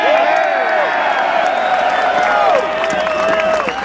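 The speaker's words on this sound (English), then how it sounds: "We have never seen a crowd like this here in Albany." Large rally crowd at an Albany gathering of about ten thousand people cheering and applauding, a dense sustained roar of whoops and clapping, with loud voices shouting over it throughout.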